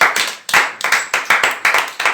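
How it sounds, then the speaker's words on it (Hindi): Church congregation clapping hands in welcome, a series of sharp, close claps in an uneven rhythm with brief gaps between bursts, fairly loud and without voices. "आइए हम परमेश्वर के दास के लिए जोरदार ताली के साथ स्वागत करेंगे।"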